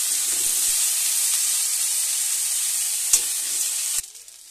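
Potatoes and cowpeas frying in a pan of oil, with a loud, close, steady hiss and sizzle broken by a couple of brief clicks before it cuts off abruptly near the end.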